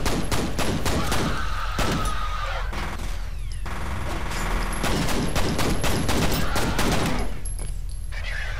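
Rapid sustained gunfire in the shooter game F.E.A.R. 3, dense overlapping bursts and impacts running continuously and loudly throughout with no pause.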